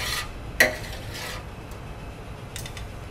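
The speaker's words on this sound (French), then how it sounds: "On n'hésite pas à l'arroser pour que ça nourrisse la viande" A spoon basts a veal fillet with hot fat in a pan, giving a few brief metallic clinks and soft scrapes against the metal with quiet gaps between.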